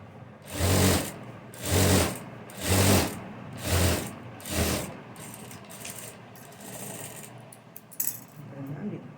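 A sewing machine stitches a blouse piece in five loud, even bursts of rapid whirring, each about a second long, followed by softer handling and rustling noises.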